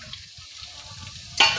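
Potatoes, chili, carrot and garlic frying in oil in a pan, a low rumbling sizzle with soft stirring that flares into a louder hiss at the end, brief and close.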